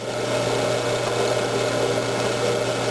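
A drill bit bores a hole in metal under hard downward pressure, making a steady, unbroken power-tool whine with a low hum that holds evenly throughout.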